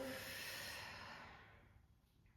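A long, close exhale during a pilates exercise, a breathy rush of air that fades gradually before a quick new breath at the end, with no talk.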